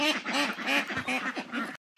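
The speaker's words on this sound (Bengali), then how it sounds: "আঙ্গো বাড়ির হাঁসটিও দেখাইতেছি, কত গাড়া হাঁস আছে দেখেন" Domestic ducks on a village farm quack loudly and close by in a tight burst of repeated calls, then the sound cuts off abruptly to near silence before resuming briefly.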